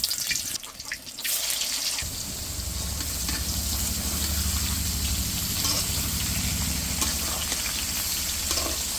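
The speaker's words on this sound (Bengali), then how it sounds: "এই তেলের ভিতরে হচ্ছে কাঁঠালগুলো সুন্দর করে ভাজে নেব" Raw jackfruit pieces frying in oil in a wok give a dense, continuous close sizzle, with a few clattering stirs at the start and no voices.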